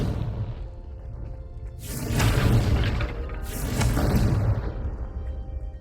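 Two heavy blasts from the Confringo spell in Hogwarts Legacy, each a broad whooshing boom that bursts in and trails off, about a second and a half apart, loud against a low rumbling background.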